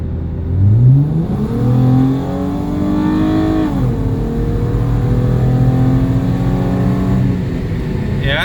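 Modified Infiniti G35 accelerating hard, its engine note rising through revs and shifting gears, loud and close, with a steady exhaust drone continuing throughout.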